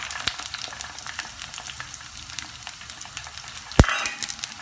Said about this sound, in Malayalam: ഇനി ഞാനിവിടെ അരിഞ്ഞു വെച്ച ചെറുള്ളി ചേർക്കുകയാണ്.